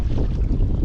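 Steady wind buffeting a microphone outdoors at Sitio Tinagisan, San Francisco, Quezon, a low rumbling gusty noise with faint water-like wash.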